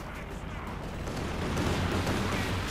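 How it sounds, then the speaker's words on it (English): A Luftwaffe air strike in the Company of Heroes 2 strategy game: dense, sustained rumbling explosions and blasts fill the scene at steady loudness, swelling slightly toward the end, with a voice talking underneath. "devastating strike there from the Luftwaffe"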